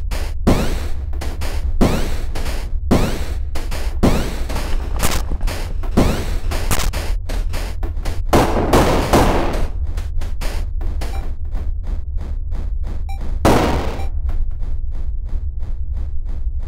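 Gunfire in the video game Overwhelm: a long run of sharp, punchy shots, some single and some in quick pairs, with a few louder blasts among them. Close and loud, with no talk over it.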